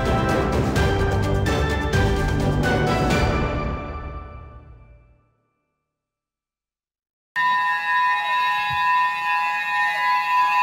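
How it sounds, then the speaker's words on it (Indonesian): Tsunami warning siren on the Tanggamus coast in Lampung, loud and sustained at first, then fading away into silence, before a steady tonal wail returns abruptly with a few faint background noises beneath it. "Sirine peringatan tsunami dibunyikan untuk menyebarkan informasi dini potensi tsunami akan melanda pesisir Tanggamus Rabu pagi."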